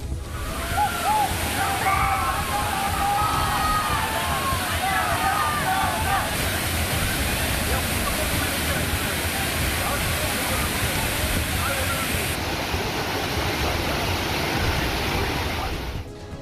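A crowded tourist waterfall roars in a dense, continuous gush of falling water, loud and close throughout. Faint distant voices of bathers mix into the rushing noise.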